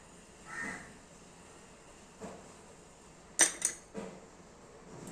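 A spoon stirs chopped onion into a beaten egg mixture in a bowl, giving a few soft scrapes and then a quick cluster of bright clinks against the bowl in an otherwise quiet kitchen.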